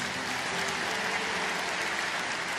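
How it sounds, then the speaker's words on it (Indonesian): A congregation at a church sermon gives soft, steady applause, heard as a distant, even wash of clapping throughout. "berikan tepuk tangan untuk dia"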